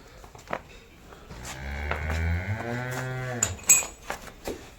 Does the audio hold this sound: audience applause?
no